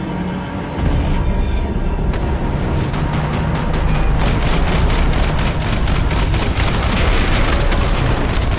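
Rapid bursts of gunfire in the Max Payne 3 video game crackle loudly and almost continuously after a short lull, sharp repeated shots layered over a heavy rumbling din, with no talk.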